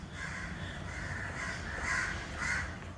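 Crows cawing repeatedly in harsh, evenly spaced calls near a train station in Salem, fairly close and clear over a steady outdoor background hiss.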